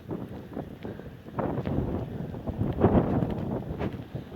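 Gusty seaside wind on Bozcaada island buffets a phone microphone, producing rough, uneven low rumbling that swells and fades, with no voices.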